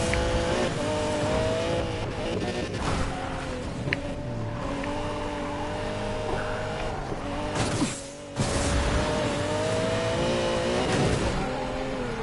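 A Lamborghini Murcielago supercar engine roars continuously at high revs in a Need for Speed Payback race on a narrow two-lane road, loud and sustained with a brief dip near the end.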